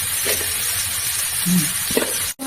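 Spices with chilli powder and salt sizzling as they are sautéed in a pan for a cabbage and pea dish, a steady close hiss with a few stirring scrapes, alone without talk.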